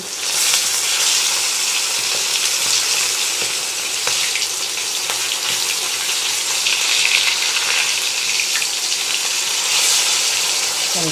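Fish fry steadily in a hot pan, a loud, even sizzle with crackling oil that holds throughout, with no talking.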